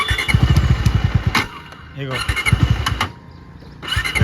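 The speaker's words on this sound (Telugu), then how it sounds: "బండి మళ్ళీ స్టార్ట్ అవుతుందా లేదా చూద్దాం" Bajaj Dominar 250 motorcycle, run about 40,000 km and out of petrol, cranking and firing with a rough, rhythmic engine chug that rises and falls, close and loud, with a person talking over it.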